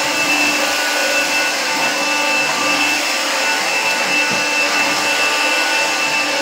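A Shark Rotator cordless vacuum cleaner runs with a loud, steady whirring whine and airflow hiss, close and unbroken for several seconds.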